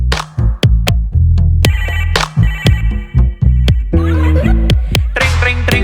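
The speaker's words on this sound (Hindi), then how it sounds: "ट्रिंग ट्रिंग ट्रिंग फोन बजा" A telephone rings loudly and repeatedly, a bright electronic ringtone with sharp repeating tones and no one speaking.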